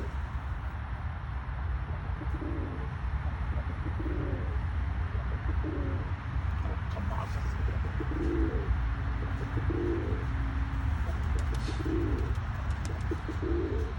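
Pigeons coo in a series of soft, low, rounded calls repeating every second or so over a steady background hiss, with faint chirps here and there.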